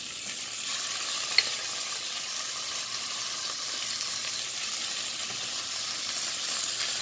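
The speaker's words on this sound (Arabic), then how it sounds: "هبدا انزل بالدجاج عشان هو كمان ياخد لون معايا" Chicken pieces laid skin side down in a pan of hot oil, Chinese style, sizzling and crackling steadily at moderate volume with one sharp pop early on and no talk.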